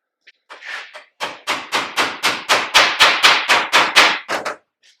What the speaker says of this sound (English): Just gonna hammer this flat real quick.